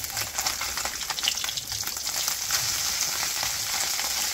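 River fish frying in a small amount of hot oil, giving a steady, dense sizzle and crackle that runs unbroken and fairly close throughout, with no talking.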